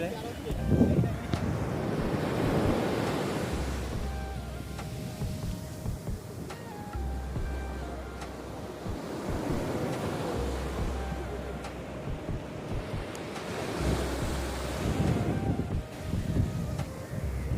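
Sea waves wash onto the beach at Fort Kochi, Kerala, in a steady broad roar that swells and recedes every few seconds, with strong wind buffeting the microphone throughout.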